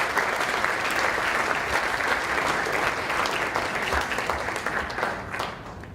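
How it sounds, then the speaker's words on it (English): A room of guests at an evening award ceremony claps in sustained, loud applause that stays even throughout before tapering off near the close. "So a round of applause for Eddie."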